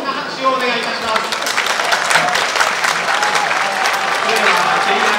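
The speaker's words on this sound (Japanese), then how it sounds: "どうぞ大きな拍手をお願いいたします。" A racecourse crowd at a JRA ceremony gives a big round of applause for jockey Masami Matsuoka's 800th career win. Clapping is loud and continuous, spread across many people, with speech faintly beneath.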